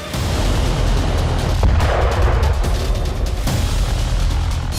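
Russian strikes with FAB-3000 bombs on Odesa produce a loud, continuous roar of blasts and rumbling, with heavier booming bursts rising out of the dense noise.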